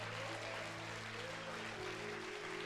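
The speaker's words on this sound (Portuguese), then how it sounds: "Levante as duas mãos o mais alto que você puder e comece a aplaudir ao Senhor com toda a força" A church congregation claps together in a faint, continuous wash of applause over a low, steady hum.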